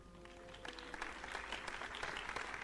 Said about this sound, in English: As a delicate applause fills the ballroom,